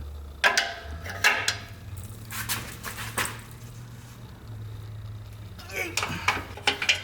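Several sharp clicks and knocks ring out, like a bent door on a Volvo 240 being handled or latched, over a low steady hum.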